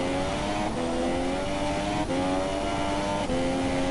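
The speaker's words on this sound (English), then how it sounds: "He's revving very high, I have to say," An F2 race car engine screams at very high revs through the low gears on a slippery British track with no traction control, a loud, steady whine broken by quick upshifts roughly every second and a half.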